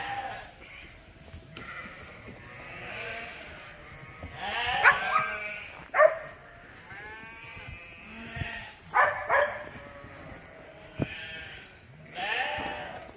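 Dorset sheep and lambs bleat repeatedly at feeding time on a farm, overlapping calls rising and falling at moderate distance over a low outdoor background, with no speech.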